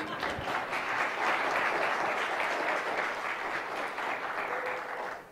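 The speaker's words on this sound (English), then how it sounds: "Give my camera guys an applause, please." Audience applause during a health presentation, a full steady wash of many hands clapping that swells early and holds, with faint voices underneath.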